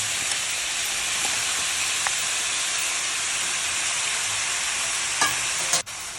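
Eggplant and chopped potatoes fry with browned cumin in a pan, giving a steady, loud sizzling hiss throughout, broken by a few faint clinks of a utensil.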